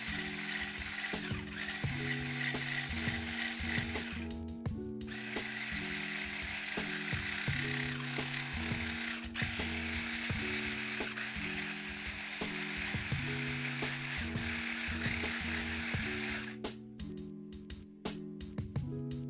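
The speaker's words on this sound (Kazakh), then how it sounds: "және миксермен ағарғанша араластырамыз" Electric hand mixer whipping soft butter for Kurabye cookies: a steady motor whine with rhythmic rattling of beaters against the bowl, continuous for the whole stretch and slowing near the end; no talking.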